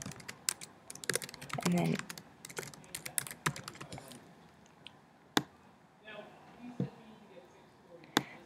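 Typing on a computer keyboard while building a table in Pages: rapid bursts of close, crisp key clicks with short pauses and scattered single taps, and a voice speaking briefly early on.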